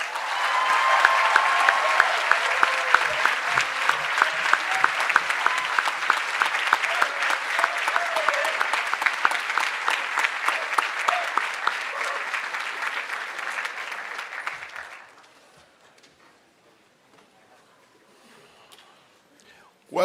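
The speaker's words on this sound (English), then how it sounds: "Let us give the triumphant form of 2026 another sound round of applause." A large audience at a school Prize Day gives a graduating class a sustained round of dense applause, loud and steady for about fifteen seconds before fading to a few scattered claps and near silence.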